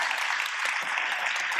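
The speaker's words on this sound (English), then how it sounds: "Can we give them a round of applause" A conference audience at a general session claps for event sponsors, a brief, steady burst of applause heard from a moderate distance.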